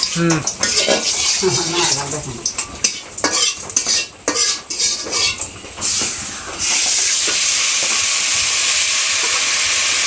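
Chicken curry with turmeric, salt and garlic is stirred in a pot, with busy metal spoon clanks and scrapes up close. Then a loud, steady frying hiss takes over for the rest.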